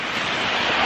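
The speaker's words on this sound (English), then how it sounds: "we keep getting gusts of wind just" Wind gusting through a snow storm with hail, a loud broadband rushing roar that buffets the microphone, steady and unbroken for a brief moment.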